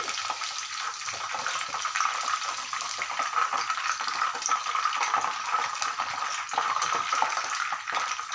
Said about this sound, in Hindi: दूसरे बैच को भी हम फ्राई कर लेंगे